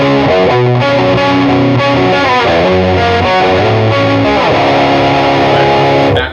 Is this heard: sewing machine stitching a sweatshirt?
no